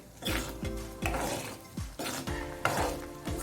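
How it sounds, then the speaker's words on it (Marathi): Palak paneer gravy simmering and sizzling in a pan, with loud, rhythmic stirring strokes scraping through it roughly every half second, close and continuous, with no talking. "बुडबुड येतात म्हणजे ते शिजायला राहिलेलं आहे"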